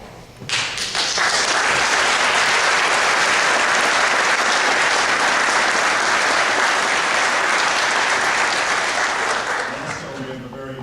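A large audience at a Take Stock In Children graduation applauds the Monroe County Education Foundation board members, with loud, dense clapping that starts abruptly and holds steady for about ten seconds before tapering slightly.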